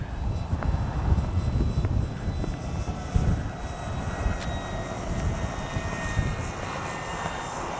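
An FMS 1800mm Ranger RC plane flies with a continuous electric propeller drone, moderately loud and steady, with wind buffeting the microphone.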